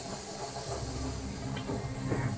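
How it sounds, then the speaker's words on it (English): An animated steam locomotive hisses and puffs as it pulls away down the tracks, a steady broadband hiss with soft rhythmic chuffs building toward the end, moderately loud and with no voices. "With a pounding puff and a heaving puff, Hiro followed Thomas to steam away from Spencer."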